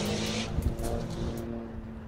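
A 600-horsepower race car runs down the back straight at Circuit of the Americas during a super lap battle, its engine a sustained, loud roar heard from trackside with a slight shift in pitch as it passes.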